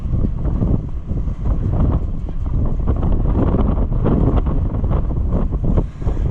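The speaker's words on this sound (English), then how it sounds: "The wind, friends, the wind." Loud, steady wind buffets the microphone outdoors beside an old Oliver 525 combine, a continuous rumbling roar with gusty swells that lasts throughout, with no clear talk over it.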